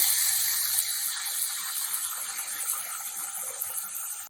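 Water is poured into a pot of fried, browned onions while cooking a vegetable pulao. A loud, steady hissing gush fades slightly as the liquid settles, with no talking.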